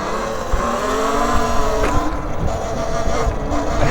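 A Talaria Sting R MX4 electric dirt bike ridden along, giving a steady, fairly loud whirring drive sound with tonal whine and rushing noise, no voices.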